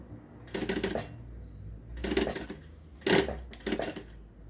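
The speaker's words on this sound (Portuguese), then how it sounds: "Vendo que eu estou costurando na bordinha, não estou puxando, não estou tensionando o zíper, apenas envolvendo ele a essa curva." Sewing machine stitching a zipper around the curved edge of a half-moon pouch, four short bursts of fast mechanical stitching separated by brief pauses, close and clear with no talking.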